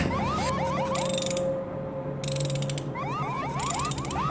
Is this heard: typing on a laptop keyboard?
no